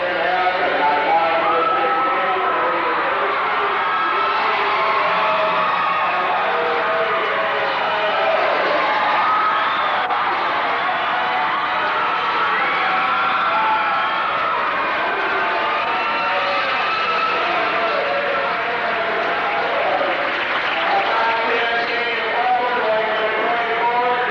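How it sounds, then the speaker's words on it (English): A packed high school basketball crowd in a Marion gym roars and cheers continuously, a dense wash of voices and whoops with an announcer speaking over it. "Very enthusiastic crowd on hand here tonight from Marion."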